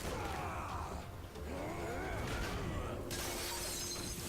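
Glass shatters loudly in a TV episode scene of Supergirl, a sustained crashing burst with scattering debris over a dense, noisy background that blends with other action sounds.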